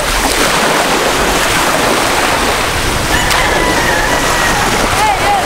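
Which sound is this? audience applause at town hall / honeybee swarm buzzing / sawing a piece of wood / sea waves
sea waves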